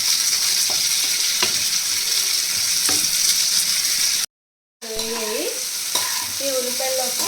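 Onions, about eight of them for several home-cooked curries, sizzle steadily in a pan while being stirred, with scraping strokes throughout and a brief cut of silence midway.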